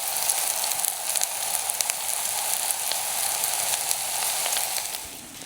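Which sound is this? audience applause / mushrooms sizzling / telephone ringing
mushrooms sizzling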